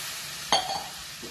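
Water sprinkled into a hot pan of frying chivda made from leftover chapati sets off one sudden sharp hiss, which settles into a steady sizzle as the mix is stirred. It is close and fairly quiet, with no talking.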